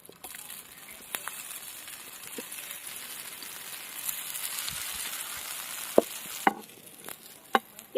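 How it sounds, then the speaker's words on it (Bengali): Cauliflower dhoka lentil cakes fry in a little oil, giving a soft, steady sizzle with a few sharp clicks and taps from the pan toward the end. "বাকিগুলো ভেজে নেব।"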